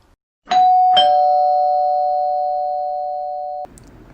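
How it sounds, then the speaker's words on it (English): An electronic doorbell chimes twice, close and loud, and its steady tone rings on for about three seconds before it cuts off abruptly. "Lola has a doorbell?"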